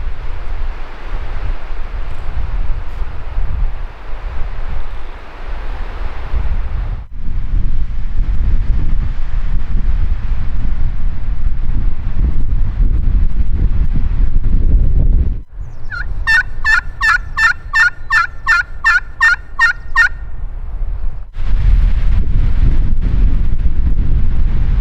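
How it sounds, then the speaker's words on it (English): Strong wind buffets the microphone through most of a turkey hunt in New Mexico, with a loud steady rush, a brief drop, and a distant Merriam's turkey gobbling in a quick rattling burst midway. "It's a tad windy, just a little bit"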